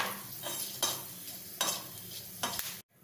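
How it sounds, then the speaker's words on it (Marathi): Fenugreek seeds and black pepper dry-roasting in a pan for sambar masala, a steady soft crackling sizzle with three sharper stirring scrapes spaced through it, close and moderately loud, ending abruptly. "आता मेथी दाणे आणि मिरं असं एकत्र भाजून घेऊ"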